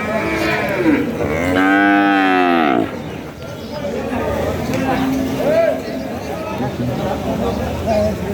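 A cow lets out one loud, close moo with a rising and falling tone at a weekly cattle market in Jamalpur. Crowd chatter and talking fill the rest of the clip.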